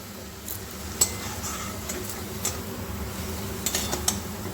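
Spice paste being stir-fried in a pan for an egg and soybean curry, with a soft steady sizzle, a few sharp scrapes and clinks of the spoon against the pan, and a faint fan hum underneath.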